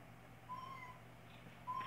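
A toy kitty gives two short, faint electronic meows when its button is pressed, spaced about a second apart over a quiet room hum.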